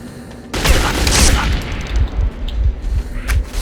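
Gunfire in the Metro 2033 video game, a dense, loud burst of rapid shots with booming low end, then a few scattered reports and rattling echoes, up close with no talk.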